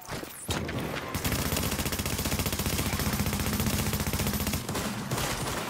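Rapid automatic gunfire in a video game, a dense sustained burst of shots rattling continuously for several seconds, loud and close, with brief quieter gaps at the start and end.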